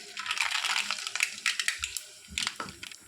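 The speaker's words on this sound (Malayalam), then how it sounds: "അപ്പോൾ എണ്ണ നന്നായിട്ട് ചൂടായിട്ടുണ്ട്. നമുക്ക് 1 ടീസ്പൂൺ കടുക് ഇട്ട് കൊടുക്കാം." Mustard seeds dropped into hot sesame oil, with a run of sharp crackles and pops, close and irregular, in quick bursts over a few seconds.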